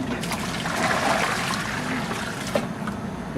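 Water pours steadily around the base of a tree into pre-soaked soil, a soft close trickle and splash that runs continuously and fairly quietly, with no talking.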